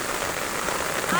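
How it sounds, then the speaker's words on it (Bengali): Steady rain patters on surfaces around a village pond, a dense even hiss with no breaks and no voices. "বৃষ্টি হচ্ছে ঝিমঝিম করে"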